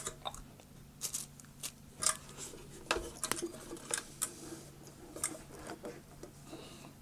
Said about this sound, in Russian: поэтому я открою крышку бета-фильтра